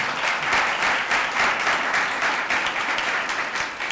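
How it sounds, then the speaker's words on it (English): An audience at a graduation celebration applauds steadily, a dense wash of many hands clapping that stays loud and even for the whole stretch, with no talk over it. "Let's give her another round of applause"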